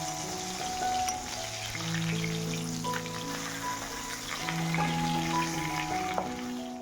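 Potatoes and eggplant sizzle in hot oil with a steady, crackling hiss that runs throughout, while a faint tonal melody plays in the background.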